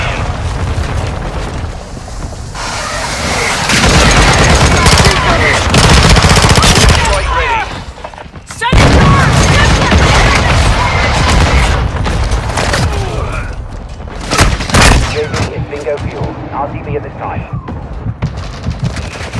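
A called-in fire strike pounds the map in a video game: heavy booms and rolling explosions mix with bursts of rapid gunfire, loud and close, swelling and dropping in waves with short quiet gaps.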